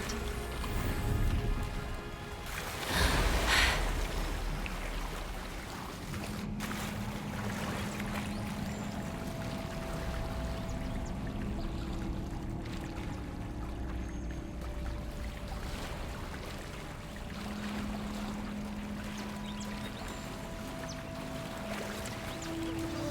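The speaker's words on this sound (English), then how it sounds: "Look, where the water's bubbling." Bubbling water in a lake or pond in Hogwarts Legacy: a continuous watery burbling and gurgling wash, steady and moderately loud, with a brief louder splash near the start and faint low tonal hums beneath.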